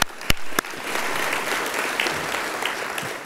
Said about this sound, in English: round of applause for the organizers of the conference